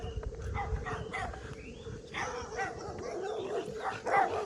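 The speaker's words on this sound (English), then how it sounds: "they really got a lot of dogs out here" Small dogs in a residential neighborhood of Sebring, Florida, barking and yapping repeatedly at moderate distance over steady outdoor background noise.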